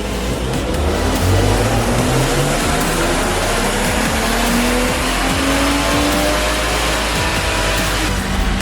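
A BMW E36 328i engine roars loudly and continuously on a dyno during a power run, its pitch climbing steadily as the revs build, with no talk over it.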